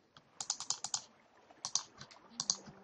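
Someone types on a new computer keyboard, with quick bursts of crisp, close key clicks in two or three short clusters separated by pauses.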